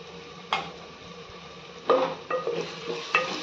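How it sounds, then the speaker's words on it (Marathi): Ginger-garlic paste sizzles with roasted tomato in a pan for misal, stirred with a few distinct scraping clacks over a soft, steady frying hiss. Heard up close and fairly quiet, with no talking. "छान अशी आलं लसणाची पेस्ट लसणाचा कच्चेपणा जाईपर्यंत परतून घ्यायची"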